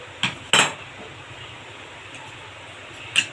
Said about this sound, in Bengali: প্যানটাকে আমরা ভালো করে নাড়িয়ে ঘুরিয়ে নিলাম